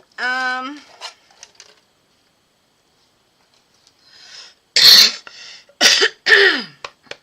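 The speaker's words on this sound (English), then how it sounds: "goodness, sorry for the coughing." A voice clears its throat, then after a quiet pause coughs three times in quick harsh bursts, close and loud.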